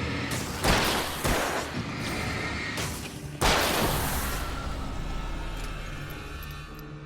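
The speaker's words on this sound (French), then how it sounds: "Grenade." A grenade explodes in the horror video game Alan Wake, set in a mine: sharp booming blasts with a heavy low rumble, a few loud impacts followed by a lingering roar of debris and ambience.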